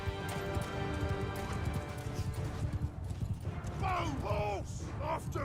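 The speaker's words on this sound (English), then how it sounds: "Horse after me." In the Crusader Blade video game, horses gallop with steady rapid hoofbeats under loud battle noise and voices, and a horse neighs near the end.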